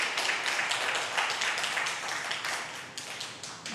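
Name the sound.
church congregation applause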